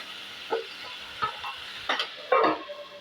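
A spoon stirs turmeric into tomato gojju in a pan, giving a few soft, scattered scrapes and clinks over a faint sizzle, quiet and close, with no voices.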